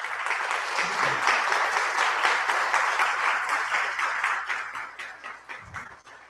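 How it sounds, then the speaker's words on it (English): A welcoming crowd at a spiritual discourse gives a swami a long round of applause, dense clapping sustained for several seconds before tapering off, with brief low murmuring under it. "let's all give him a big round of applause"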